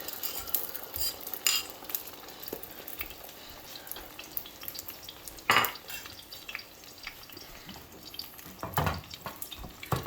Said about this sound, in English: So as soon as the oil is hot, we'll then start pouring the egg.